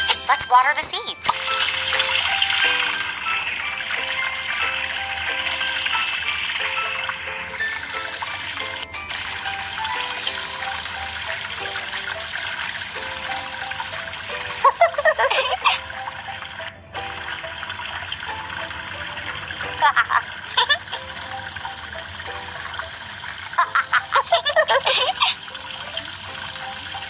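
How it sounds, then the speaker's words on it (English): A watering can pours water onto freshly sown seeds in a steady, continuous trickle, with a few brief splashy surges layered over a soft tonal background. "Water the seeds."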